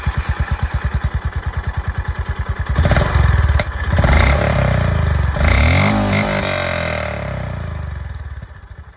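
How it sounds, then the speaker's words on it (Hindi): A Honda CB350C Special Edition single-cylinder motorcycle idles with a close, steady exhaust thump, then is revved several times in rising bursts before dropping back toward idle. "तो यहाँ पर दोस्तों आप लोगों ने CB350 की जो आवाज़ है वो आप लोगों ने सुन ली"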